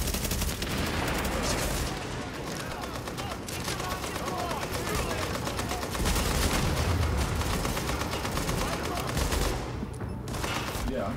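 Gunfire from Tom Clancy's The Division, Russian Consulate eight-player challenge: dense, continuous bursts of automatic shots and blasts layered over game effects, loud and sustained throughout, with players talking underneath.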